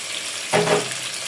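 Bay leaves and garam masala dropped into hot oil for a mutton muri ghonto with three kinds of dal, setting off a sudden, steady sizzle that hisses on evenly after a quiet moment.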